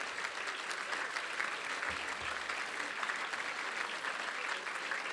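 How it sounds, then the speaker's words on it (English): A dinner crowd applauds steadily, a dense even wash of clapping lasting the whole stretch at moderate distance, with no voices standing out. "let's give one more big round of applause"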